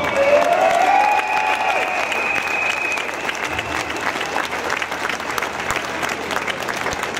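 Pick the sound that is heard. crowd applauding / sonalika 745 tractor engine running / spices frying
crowd applauding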